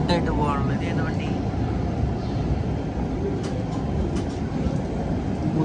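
A Muzaffarpur–Jabalpur election special train at an Indian station gives off a steady low rumble and rolling drone, with faint squeaks and clacks, while people talk nearby.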